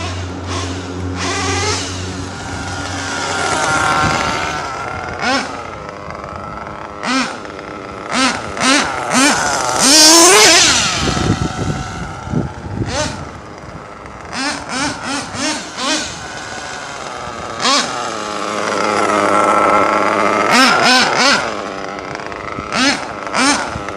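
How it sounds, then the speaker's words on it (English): Small nitro RC car engine running rich, fitted with an OG Muggy or Novarossi motor, revving in bursts and bogging between throttle blips, close and loud with uneven rhythm. "Still running really rich."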